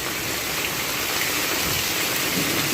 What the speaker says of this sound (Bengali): ধুম বৃষ্টি হচ্ছে চারদিকে